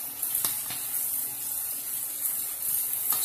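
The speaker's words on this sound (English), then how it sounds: "add tayo ng vinegar" Vinegar poured into a pan while cooking stir-fried ampalaya with quail eggs, a steady, close trickle of liquid that runs without pause.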